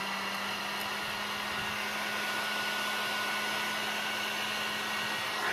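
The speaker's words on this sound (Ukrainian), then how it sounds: "Так, включаємо фен, беремо плоскогубці." A steady, loud blowing roar of a heat gun heating a circuit board to remove components, running continuously at close range, with a low constant hum underneath and no talking.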